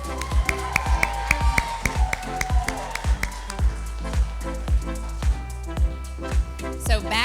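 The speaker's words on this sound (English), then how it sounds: "Let's give them a round of applause." An audience at a county fair pageant applauds contestants as they leave the stage, a sustained round of clapping and cheering over loud rhythmic music beats.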